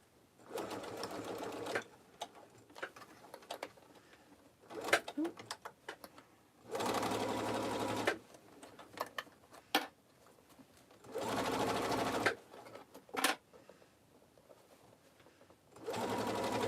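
A sewing machine stitches a tote bag lining in several loud, close bursts of steady whirring, separated by quieter pauses with faint handling sounds.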